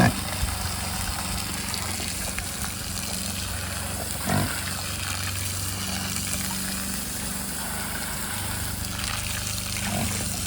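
Steady trickling and splashing of water running into a container for pigs, continuous and close, over a low mechanical hum with a brief thump midway.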